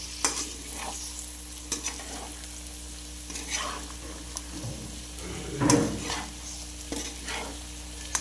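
Chicken and liver fry in a pan as a steady, moderate sizzle, broken by scraping stirs and a few clinks of the utensil against the pan, heard up close.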